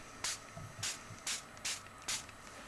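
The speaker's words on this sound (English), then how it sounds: "So you're gonna just spray this down." A spray bottle fires five quick, hissing squirts of water onto a shirt in an uneven rhythm, close by and fairly quiet, with no talking.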